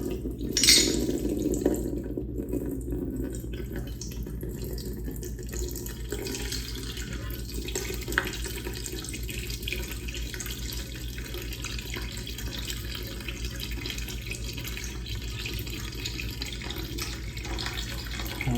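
A thin stream of coolant trickles and splashes steadily into a container as it drains from an SV650 motorcycle, continuing for a long stretch with a faint hum underneath.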